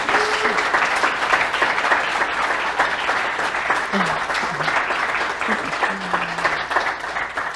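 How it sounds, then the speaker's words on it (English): Congregation applauding at a reverend's farewell service, dense sustained clapping from many hands, loud and even from start to finish, with scattered voices underneath. "let's clap"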